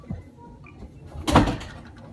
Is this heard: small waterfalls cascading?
no